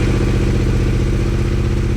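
A Yamaha Tenere 700 motorcycle engine runs at a steady idle right up close, its loud, even low-pitched thrum and rapid mechanical clatter holding constant throughout with no talking.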